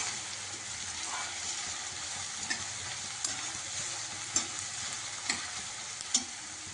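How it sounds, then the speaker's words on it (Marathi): Onions sautéing in a pan for Jalgaon-style brinjal bharit, a steady close sizzle with occasional light taps of stirring, no talking. "रेड कलर येईपर्यंत आपण परतवायचं आहे कांद्यांना"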